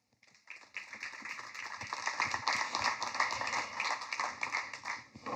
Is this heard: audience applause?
yes